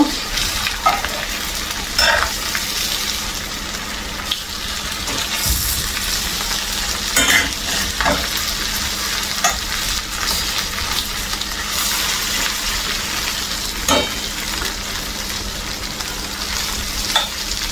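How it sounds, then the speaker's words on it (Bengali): Pieces of chital fish fry lightly in a large pan with a steady, close sizzle that runs throughout. Faint stirring and scraping sounds come through now and then, and no one speaks. "হালকা একটু ফ্রাই করে নিব।"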